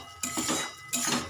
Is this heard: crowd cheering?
no